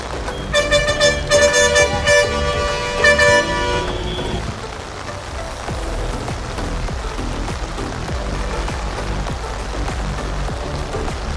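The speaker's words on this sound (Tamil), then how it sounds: "எல்லாருக்குமே பார்த்தா தெரிஞ்சிருக்கும் பின்னுக்கு சரியான மழை கொட்டி கொண்டிருக்கு" Heavy rain pours down steadily in a flooded Jaffna street, a dense, loud hiss of drops on surfaces, joined early by a vehicle horn sounding repeatedly in the first few seconds before the downpour continues alone.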